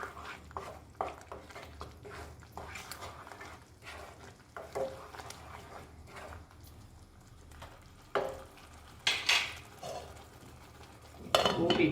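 Salted onion thokku is stirred in a pan, with soft, intermittent scraping and clinking that grows into louder bursts toward the end.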